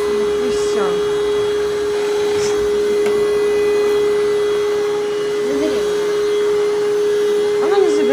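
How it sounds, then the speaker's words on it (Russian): A vacuum cleaner runs close by at home with a loud, steady drone and a constant whine, while people talk over it now and then. "теперь я сейчас, Кира, включу пылесос"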